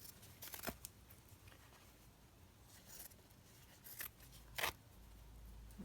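Fabric being trimmed with scissors, a few soft snips and rubs at close range, faint and quiet with no talking.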